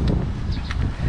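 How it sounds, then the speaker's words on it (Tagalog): Wind blowing near a tower in Bajada, Davao City, heard as a steady low roar of rumble and buffeting against the microphone. "lami king hangin, hapak sa hangin"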